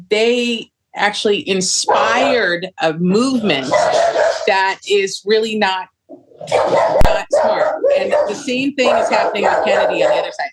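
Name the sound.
dog barking in the background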